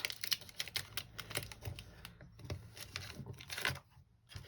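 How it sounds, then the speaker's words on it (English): A blade or scissors cuts slits around the bottom of mould-making material, a rapid series of crisp snips and crinkly tearing sounds, close and fairly loud, easing off near the end. "So I'm just making some slits around the bottom so that I can fold the pieces up over."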